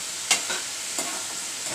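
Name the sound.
stirring steamed cowpea (chawali) vegetable in a pan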